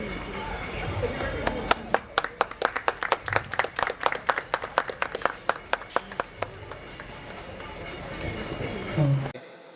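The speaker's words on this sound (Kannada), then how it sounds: "ಜೋರಾದ ಚಪ್ಪಾಳೆ ಬರಲಿ" Loud clapping from a seated audience at a formal assembly program, greeting the lighting of the inaugural lamp; a dense burst of hand claps that swells, holds for several seconds, then thins out and stops.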